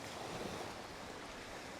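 Steady ocean surf washes in at a beach in Playa del Carmen, a continuous broadband rush with wind buffeting the microphone, with no voices.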